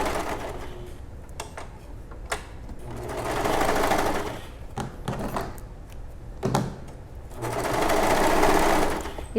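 A serger overlock sewing machine stitching a piece of fabric with no trimming, its motor whirring in two sustained runs separated by pauses, with scattered clicks and handling noises between.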